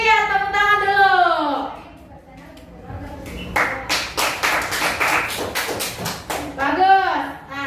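Children in a classroom lesson clap together on a teacher's cue, a short burst of sharp uneven claps in the middle, with a voice talking before and after.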